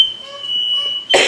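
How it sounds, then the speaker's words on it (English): A home smoke alarm set off while fajitas cook on a stove gives one sustained, piercing high electronic tone up close, then cuts out into a short burst of noisy rustle or a cough. "the fire alarm is going off"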